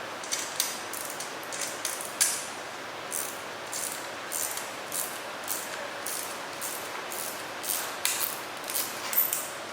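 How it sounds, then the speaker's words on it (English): Seat post clamp being taken off a Brompton bicycle, a quiet series of repeated clicks and ratcheting metal ticks over light background hiss, with no talk. "First, we begin by taking off the seat post clamp."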